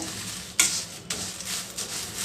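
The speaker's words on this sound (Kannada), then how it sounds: "ಈಗ ಎಲ್ಲ ಮೆಣಸಿನ್ಕಾಯಿ ನಾನು ಹುರ್ಕೊಳ್ತೀನಿ" Dry red chillies roast in a pan with a faint crackling sizzle, broken by a few sharp scraping stirs of a spatula against the metal.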